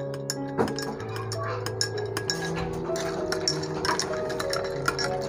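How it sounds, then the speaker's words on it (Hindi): Spoon stirring a rose syrup and milk drink with ice in a glass, giving steady light clinks and ticks of metal against glass and ice, close and fairly continuous, with no talking. "अभी चम्मच की मदद से इसे मिक्स करते हैं"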